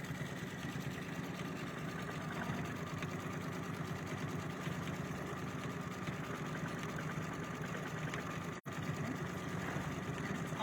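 An embroidery machine stitching a design, running as a steady, fast mechanical whir and needle patter that continues without a break.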